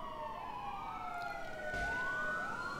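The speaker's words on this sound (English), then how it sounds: "I keep hearing sirens and wrecking and every fucking thing else" Police sirens in the LCPDFR police video game wail with rising and falling pitch, several overlapping tones sweeping at moderate distance over a low steady hum, with no talking.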